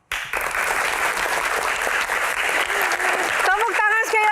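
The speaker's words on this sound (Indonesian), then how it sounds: "Tepuk tangan sekali lagi Bapak Suharyanto." A television studio audience applauds a guest on a talk show, a loud sustained burst of clapping that begins abruptly and holds steady, with a host's voice cutting in over it near the end.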